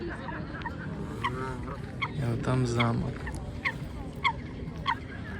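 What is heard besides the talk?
geese honking at pond by Nymphenburg Palace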